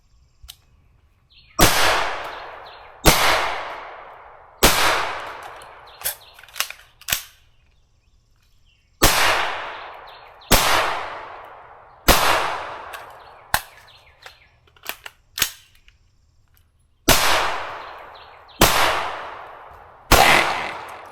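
Sharp rifle shots from an LWRCi IC A5 with a 10.5-inch barrel crack out one at a time in uneven spacing during recoil drills, each loud report trailing off in an outdoor echo, about a dozen in all.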